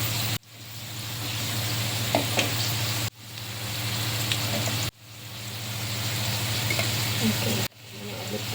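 A hamburger patty frying in a pan, a steady hissing sizzle under a low hum, broken by three sharp cuts, each followed by the sizzle swelling back up.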